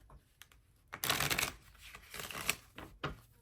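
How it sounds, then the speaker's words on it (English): Playing cards shuffled by hand, a quiet riffle that builds into a dense fluttering burst of card snaps lasting about two seconds, followed by a few lighter taps and slides as the deck is squared. "So let me go ahead and shuffle these,"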